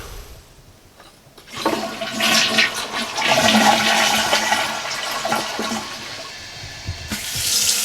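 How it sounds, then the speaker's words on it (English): A toilet in an off-grid cabin with newly installed indoor plumbing flushes, starting with a click and then a loud rushing swirl of water that drains and settles, with refill hiss picking up at the end. "We can flush the toilet"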